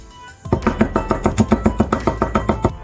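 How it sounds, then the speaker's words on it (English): A knife chops garlic on a cutting board in a steady fast rhythm, about fifteen crisp close taps with no talking. "And this is really finely chopped garlic."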